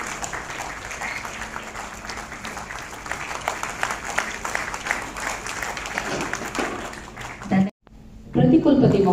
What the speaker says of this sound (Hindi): माननीय राज्यपाल जी का तालियां की गड़गड़ाहट, आवाज, गूंज